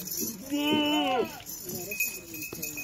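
A large Rajanpuri goat bleats once in a long, wavering cry at a Pakistani livestock market, followed by fainter rustling and short sounds nearby.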